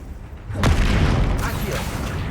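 A Confringo blasting spell explodes during a troll fight in Hogwarts Legacy, a sharp burst followed by a sustained rumbling roar that lingers loudly to the end.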